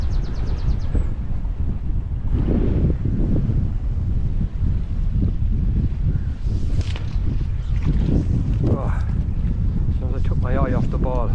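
Gusting wind beside a brook on a cool, brightening fishing day, a steady low roar that buffets the microphone throughout, with a few brief higher calls near the end.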